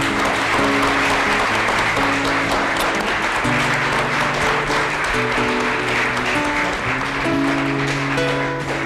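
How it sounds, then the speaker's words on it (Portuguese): Loud, sustained clapping from a large church congregation fills the space, with music or sustained tones playing underneath. "Uma salva de palmas para o nosso novo congregado."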